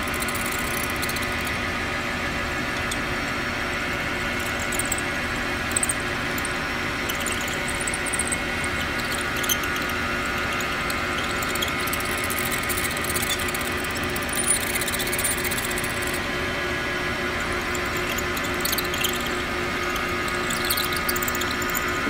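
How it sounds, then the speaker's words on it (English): Steady machine whir of a lathe turning the workpiece against a stationary drill bit, boring the center of a marking gauge body, a constant mechanical drone with faint scraping and no talking. "With the lathe, we're turning the material and keeping the bit stationary."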